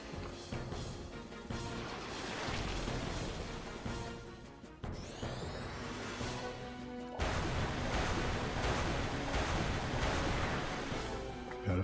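A water spell effect from the video game Final Fantasy X surges in a continuous rushing, splashing wash like crashing surf, with a sharp swish partway through and a louder burst near the end.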